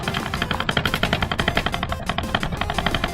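A computer mouse is clicked as fast as possible in a click-speed record attempt, producing a dense, rapid-fire stream of sharp clicks that rattles on continuously at moderate to low volume.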